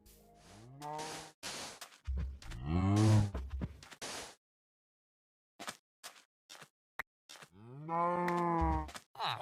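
Cows mooing in the Minecraft video game: several long, drawn-out low moos come in separate bursts with quiet gaps between them, clear and close, with no talking.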